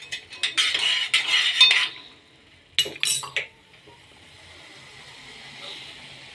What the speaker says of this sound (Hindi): इसको हिलाते रहें, बीच बीच में देखते रहें